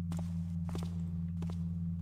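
A guard's footsteps in the stealth video game Thief: a few soft paced steps in three short clusters over a steady low electrical hum, fairly faint and with no talk.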